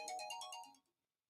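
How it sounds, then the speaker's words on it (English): A mobile phone ringtone plays a quick run of bright electronic notes for under a second, faint and somewhat distant, then cuts off into silence. "My phone ringing, y'all."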